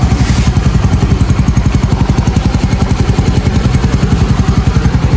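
A Yamaha motorcycle engine idles close up with a rapid, regular putt-putt rhythm and slight clatter, steady and loud throughout.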